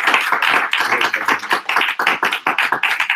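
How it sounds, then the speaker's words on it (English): Audience applause for a guest trainer at a pastors' and leaders' training session, a dense burst of many hands clapping steadily for about three seconds, close and loud with no talk over it. "So can you give Mr. Ron Lerner a hand clap?"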